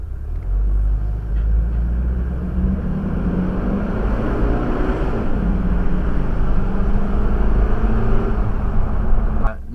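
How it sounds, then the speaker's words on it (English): Car with a turbocharged engine and a throttle controller accelerating at full throttle, a heavy, loud engine roar with low rumble building steadily over several seconds as the car pulls, heard from inside. "SP9, throttle to the floor."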